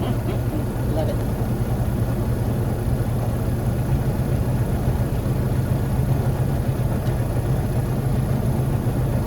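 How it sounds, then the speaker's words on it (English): A truck engine idles just outside an open window, a constant low rumbling drone with a steady hum filling the room, unbroken and fairly loud throughout. "Hopefully this window being open is not too loud for you with the truck running."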